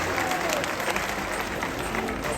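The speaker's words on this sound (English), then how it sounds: "give a round of applause." Crowd at a tiger show applauding after the tiger Javi dives for chicken in the Tiger Island pool, a steady, dense wash of clapping that holds for the whole stretch.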